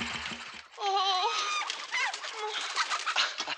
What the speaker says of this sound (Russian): Курятник.